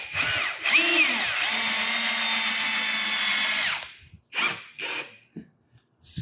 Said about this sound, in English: screw these into the bottom piece of plywood